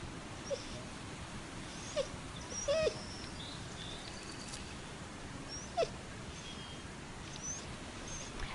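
A dog in the Into a Dream video game gives soft whimpers and small yelps at scattered intervals over a constant hiss of background noise.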